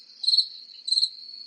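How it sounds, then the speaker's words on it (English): A cricket chirp sound effect triggered from a Stream Deck button in a lecturer's office studio, two loud, clear trilling bursts in quick succession with no talking. "no answers, I'll go ahead and hit the crickets"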